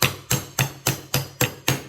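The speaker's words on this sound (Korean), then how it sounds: "이렇게 망치로 때려가지고 넣어줘야 되고요" Hammer striking a tight-fitting part of a wooden metal bending machine: seven sharp, evenly spaced blows about a quarter second apart, loud and close, with no talking.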